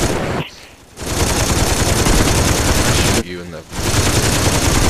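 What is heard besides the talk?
gunfire in video game Saints Row 2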